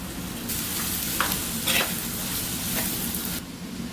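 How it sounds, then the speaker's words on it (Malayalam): Onions with slit green chilies and salt sauté in a pan for a homestyle beef curry, giving a steady close sizzle with a few brief scraping stirs and no talk. "ഒരു 5 പച്ചമുളക് കീറിയത് ഇട്ട് നമ്മൾ കുറച്ച് ഉപ്പും ഇട്ട് വഴറ്റുക"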